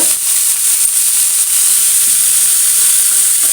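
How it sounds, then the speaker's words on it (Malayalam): Chopped broad beans sprinkled with turmeric sizzle loudly in a hot pan, a dense, steady crackling fry that carries on without pause and with no voices. "കഴുകി അരിഞ്ഞു വെച്ച അമരക്കായ ഇട്ട് കൊടുക്കും അതിലേക്ക് കുറച്ച് നമ്മൾ മഞ്ഞൾപ്പൊടി ഇട്ട് കൊടുക്കുന്നുണ്ട്"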